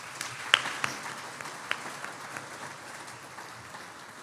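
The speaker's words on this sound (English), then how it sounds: "one round of applause for all the time." Applause for the county commissioners at the Fort Bend County, Texas State of the County 2022 event, a thin, distant patter of clapping with a few sharper claps early on, fading to a steady faint wash.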